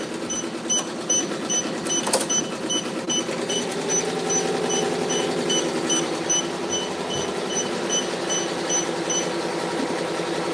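A sewing machine that is failing to catch the bobbin runs steadily, with a fast, even mechanical stitching chatter and faint periodic ticks, close and unbroken for the whole stretch.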